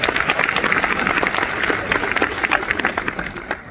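An audience claps at a kick-off event in Aix-en-Provence, a dense and lively round of applause that carries steadily and fades slightly at the end.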